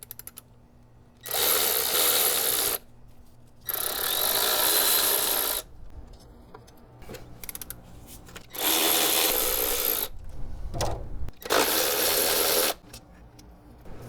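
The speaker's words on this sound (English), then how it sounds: "Been ready to remove the remaining bolts on the injector rail." A power tool whirs in four separate bursts of a couple of seconds each, removing bolts from the fuel injector rail of a Jeep 4.0L engine, with quiet clinks and handling noises between the bursts.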